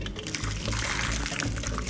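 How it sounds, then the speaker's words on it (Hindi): Hot water poured off a pot of freshly boiled eggs, a steady continuous splashing pour close by that runs unbroken for about two seconds with no voices. "तो इस पानी को अब जो है हम अंडों में से निकाल देंगे।"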